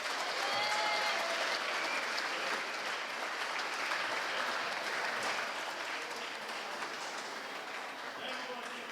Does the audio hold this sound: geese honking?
no